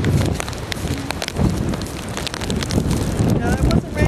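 Heavy rain during Hurricane Irene pounds down with gusting wind buffeting the microphone, a dense, loud, continuous roar with spattering impacts throughout.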